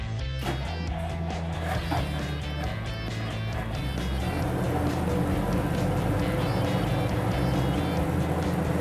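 An M24 Chaffee light tank's engine cranks with a few stuttering bursts, then catches and settles into a loud, rough, continuous idle rumble heard up close.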